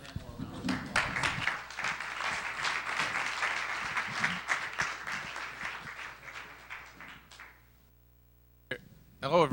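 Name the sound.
audience applause for a panel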